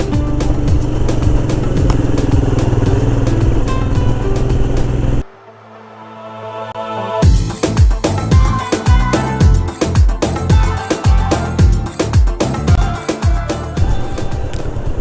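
A motorcycle ridden along a mountain road between Harshil and Gangotri, engine droning steadily, then dipping quiet for a couple of seconds before returning with rhythmic rumbling pulses, loud and close.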